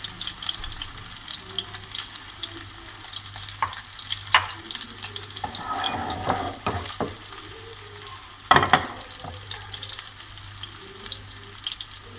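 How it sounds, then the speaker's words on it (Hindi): Beef kebabs shallow frying in oil in a kadhai, a soft steady sizzle with occasional clinks and scrapes of a utensil, one louder clatter near the end. "ये अब शैलो फ्राई करेंगे। कढ़ाई में हमने ऑयल डाल लिया।"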